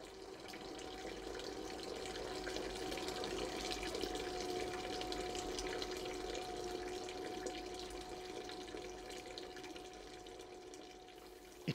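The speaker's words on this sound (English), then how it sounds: "Now the pumping has started and a cone of depression is developing, with the water table sloping towards the well." Water being pumped from a well in a small groundwater model, a steady trickling, running-water wash with a faint hum, moderately close and continuous throughout, with no talking.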